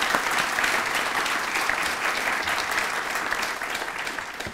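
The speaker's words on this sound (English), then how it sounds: "So please give her a round of applause." An audience at a university lecture event applauds in a sustained, full round of clapping that stays strong throughout and begins to taper at the very end.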